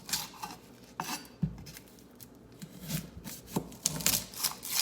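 A knife slices through an onion on a cutting board, giving a few crisp chops and taps at an irregular pace, close up and fairly quiet, with small clatters in between.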